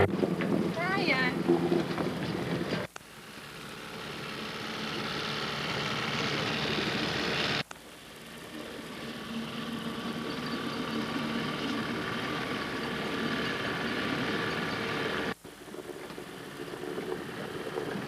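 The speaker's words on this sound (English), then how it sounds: "The motor takes us away from the dock" The motor of a Tanzer 26 sailboat leaving the dock drones steadily under heavy wind buffeting on the microphone, with voices talking briefly near the start.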